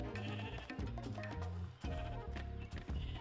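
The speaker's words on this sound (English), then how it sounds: "Gray sheep." Sheep bleating in the Minecraft video game, several short wavering bleats one after another over game music, fairly loud and close.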